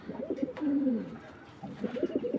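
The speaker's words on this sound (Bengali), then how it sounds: "অল টাইম 24 ঘন্টা ডাকবে কবুতরটা, 24 ঘন্টা," A Giribaz pigeon coos close by in short throaty phrases, with a brief pause before the low rolling calls resume.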